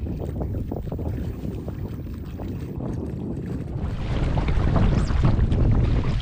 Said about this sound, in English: It was time to ditch them and paddle home.